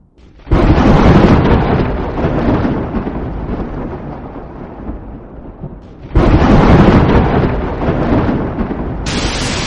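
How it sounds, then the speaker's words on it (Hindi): Two loud, deep thunder rumbles roll one after another, each swelling and lingering, with what sounds like rain hissing beneath them. "अरे भाई, जोर से कड़क रही है, लग रहा है बारिश होने वाली है।"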